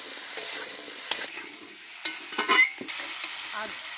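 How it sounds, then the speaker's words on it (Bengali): Papaya with salt and turmeric is stirred in a hot pan, giving a continuous frying sizzle broken by several scraping, clacking strokes of a spatula, close and fairly loud. "নেড়ে নিয়ে একটু দিয়ে দিচ্ছি লবণ, হলুদ গুঁড়ো, দিয়ে আবার ভালো করে মিশিয়ে নেব।"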